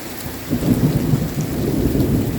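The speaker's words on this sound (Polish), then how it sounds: "A więc burza to już konkret. I z gradem musi być." A thunderstorm with hail in Georgia gives a heavy, continuous rumble and roar of falling precipitation, loud and sustained with no talking.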